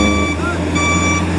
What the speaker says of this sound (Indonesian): Ini mundur truknya.